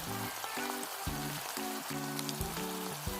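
Steady sizzling of chicken and meat cooking on a hot grill, soft and continuous, with a melodic tune playing alongside.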